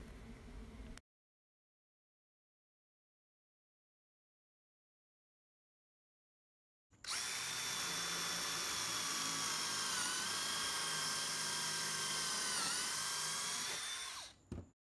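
A power drill bores pocket holes into a board's end through a pocket hole jig, a high, loud whining run of about eight seconds that follows a brief earlier burst and long silence, its pitch dipping slightly as it cuts.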